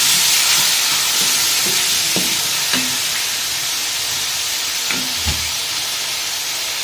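Tomatoes and onion frying in a pan for gola kabab, a loud continuous close sizzle and hiss with a few soft spoon taps scattered through, no voices.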